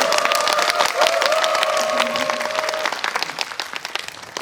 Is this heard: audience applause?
yes